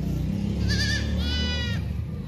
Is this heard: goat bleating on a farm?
yes